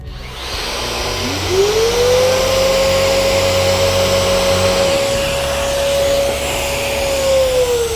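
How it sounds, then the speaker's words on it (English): A Festool RO 90 DX detail sander runs steadily, starting up about a second in and holding a high whining pitch with a broad motor hiss before winding down near the end, with no talk over it. "Let's put a detail sander on there. Now I've got a detail sander."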